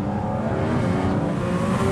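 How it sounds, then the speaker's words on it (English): Loud, steady engine intake roar of a 2023 Porsche Cayman GT4 RS heard from inside the cabin, a continuous deep whooshing drone with the exhaust sitting underneath. "that induction noise, it dominates the experience in the inside the cabin"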